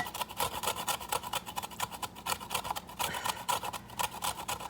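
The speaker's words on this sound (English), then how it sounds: "You're gonna scrape your lemon." Rapid rasping strokes of a lemon being scraped across a zester, a quick uneven rhythm of close, crisp scratches with no voices.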